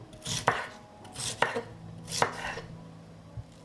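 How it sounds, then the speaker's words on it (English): A knife cuts a fleshy pepper into thick slices on a board, three distinct chopping thuds spaced about a second apart, with a fainter knock near the end in a quiet kitchen. "I cut the pepper into thicker slices"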